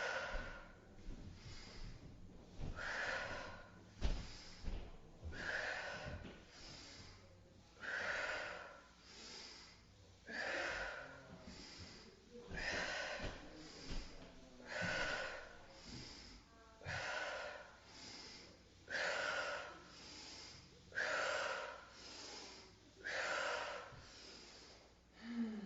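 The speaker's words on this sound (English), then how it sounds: "I'm also breathing in my nose, out my mouth." Slow, deliberate yoga breaths drawn in through the nose and released out through the mouth during a rounding and arching spine flow, about a dozen steady cycles close to the mic with no talking.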